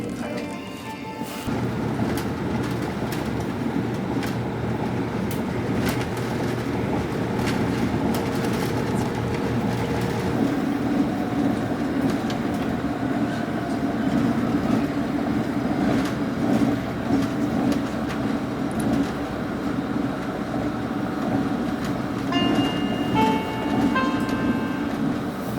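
A KTX high-speed train in South Korea rumbles steadily along the rails at a constant loud level, with a continuous low drone and occasional faint high tones near the end.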